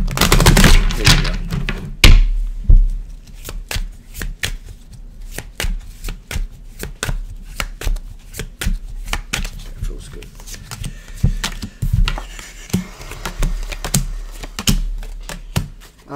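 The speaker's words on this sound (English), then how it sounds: "one more shuffle" Tarot cards being shuffled close up, a rapid stream of crisp riffling snaps and taps with a few louder slaps, going on steadily while a voice talks over it at times.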